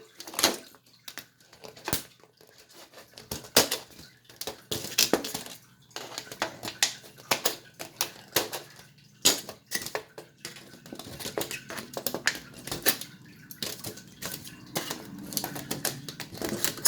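Tin snips cut the corners of a metal cookie sheet: a steady series of sharp metallic snips and crunches with bending-sheet rattles, close up and irregular, with no talking.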